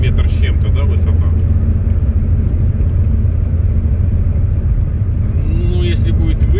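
A car drives along a snowy road in East Kazakhstan past high snowbanks, a steady loud engine and road rumble filling the cabin from start to finish while people talk inside over it.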